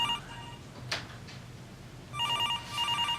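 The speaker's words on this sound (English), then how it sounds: "I don't know what was going on with that phone ring right there" A telephone rings inside a home during a high school home movie, an electronic trilling ring in two bursts toward the end, fairly clear over a quiet room with a brief knock earlier.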